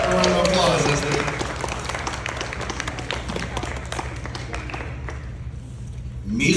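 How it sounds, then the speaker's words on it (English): Guests clap at a Chumash party, with applause strongest at the start and tapering as voices talk over it. "A round of applause as they..."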